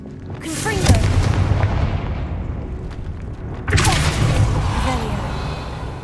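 Two heavy blasts from the Confringo spell in Hogwarts Legacy boom out a few seconds apart, each a sharp crack that rolls into a long rumbling decay.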